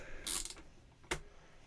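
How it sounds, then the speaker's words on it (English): Screws being removed while taking apart a bass guitar during a repair, two faint, brief metallic scraping clicks with a quiet gap between them and no talk. "So we're getting screws out of here."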